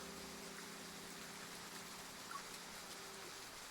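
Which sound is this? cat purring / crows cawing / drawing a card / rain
rain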